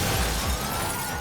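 A silicone prop pane of glass breaks in one short, sharp shatter, with no voices around it.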